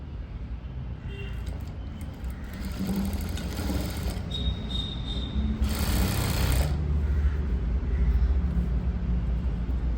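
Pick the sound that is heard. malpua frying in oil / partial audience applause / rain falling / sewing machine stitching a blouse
sewing machine stitching a blouse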